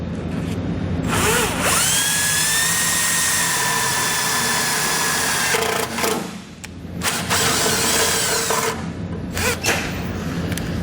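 A power drill bores a pilot hole for a self-tapping screw, a loud, close whine that rises in pitch as it spins up, runs steadily for several seconds, then stops and restarts in short bursts.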